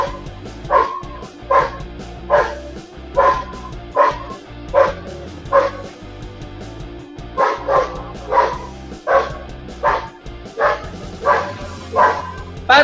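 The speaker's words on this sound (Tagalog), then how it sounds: "Lagi na nga umakahol yung aso." A dog barks repeatedly in a steady rhythm, loud and close, with some yips and whimpery notes mixed in across the stretch.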